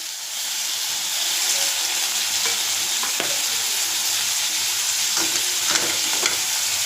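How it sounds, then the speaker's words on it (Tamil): Cleaned prawns go into a hot pan and fry with a loud, steady sizzle and hiss, with occasional scrapes and taps of a stirring spoon, close and without speech. "இந்த இறாலை போட்டுக்கிறேன்."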